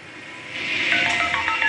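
A telephone is dialed at night, a quick run of electronic keypad tones that grows louder and ends in several distinct beeps.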